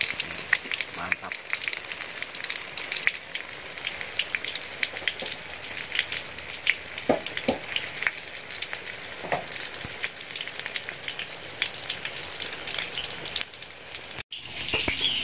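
Pokae and tofu fry in hot oil with chili and spices in a home kitchen, giving a steady, close sizzle and crackle throughout with occasional stirring clicks.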